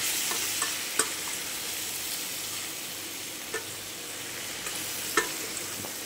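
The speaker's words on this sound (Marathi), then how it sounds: "आता आपल्याला छान मिक्स करून घेऊया, ज्याच्याने मसाले आपले हे छान करपले जातील" Ground coriander, turmeric and garam masala frying and being stirred in hot oil for a green-chilli curd sabzi, a steady soft sizzle with occasional scraping clicks of the spoon, fairly close, no voices.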